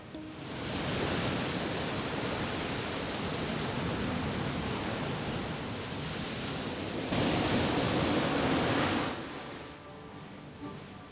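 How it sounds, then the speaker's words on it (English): Waves break over volcanic rocks and black sand on the southern coast of Kos, a dense, loud, continuous roar of surf that swells and eases. "Close by, waves crash over volcanic rocks and black sand, the visible sign of a volcano below."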